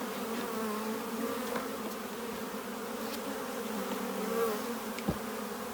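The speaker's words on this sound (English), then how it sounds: "That's the last of the bees into the hive." Honey bees hum in a steady, droning buzz around a hive, a continuous mid-level swarm sound with a few louder single bees passing close.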